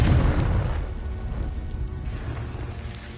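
Confringo blasting spell exploding in the video game Hogwarts Legacy: a single deep boom with a burst at the onset, decaying into a rumbling tail that fades over about three seconds, with no speech.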